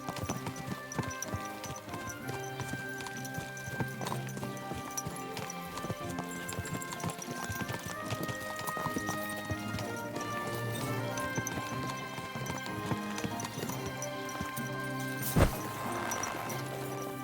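Horse hooves clip-clop steadily in the medieval video game Kingdom Come Deliverance II, a continuous rhythmic patter under layered music and ambience, with one sharp crash-like hit near the end.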